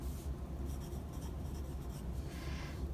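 A math problem written out by hand, a soft continuous scratching of pen or marker on a surface, faint and close, steady for about three seconds with no talk.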